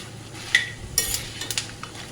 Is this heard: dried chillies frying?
yes